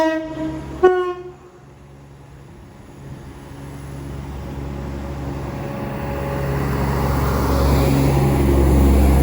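An East Midlands Railway service from Sheffield to St Pancras International pulls into Derby station on the Midland Main Line, opening with a short sharp horn blast, then a steady, swelling rumble of the approaching train.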